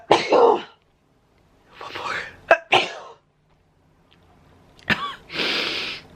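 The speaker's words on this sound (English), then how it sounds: "I was coughing a little bit" A person with a sinus illness coughs and clears their throat in a quiet room. There are several separate harsh bursts, including a sharp sneeze-like one, with short silent pauses between them.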